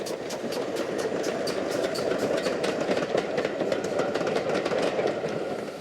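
Great Western Railway Modified Hall steam locomotive Witherslack Hall, in lined black livery, running steadily with a continuous rumbling roar and a rapid, even rhythm of wheel clicks throughout.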